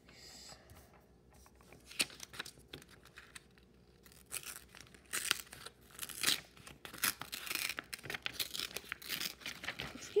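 Sheets of paper with drawing examples get folded over, giving close crinkling and rustling that grows busier and louder in the second half.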